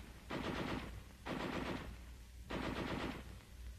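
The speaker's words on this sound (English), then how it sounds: "the heavy machine gun can be fired safely over the heads of the riflemen" A tripod-mounted heavy machine gun firing in three sustained bursts of rapid, rattling rounds, with short pauses between them, loud and dense against a low background hum.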